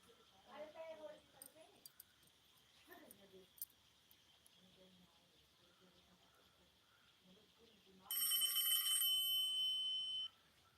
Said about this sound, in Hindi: राम के अटे फोन आया है